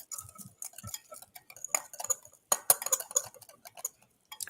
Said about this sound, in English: I'm going to give this a little whisk.